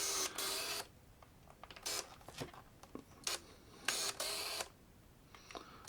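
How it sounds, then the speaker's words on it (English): The motor winder of a Canon EOS 750 film camera gives several short mechanical whirring and clicking bursts, roughly one per second with quiet gaps between them, close and fairly faint. "The winder winds on at about 1 frame a second"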